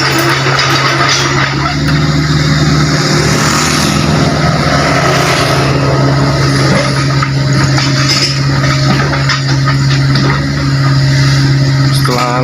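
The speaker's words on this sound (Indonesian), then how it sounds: "Oh, truk kedua masuk." A heavy truck rolls into a construction site during excavation work, its engine a steady low drone throughout, mixed with continuous machinery and site noise at close range.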